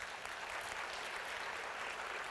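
An audience at a keynote talk claps hands together in a steady, dense burst of applause that holds evenly for about two seconds, with no speech over it.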